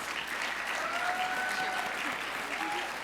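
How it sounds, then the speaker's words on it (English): Sustained applause from an audience at a livability summit, welcoming Youth Leadership Academy panelists and Sacramento Area Council of Governments members; steady, moderately distant clapping with faint crowd murmur throughout. "Yeah, round of applause"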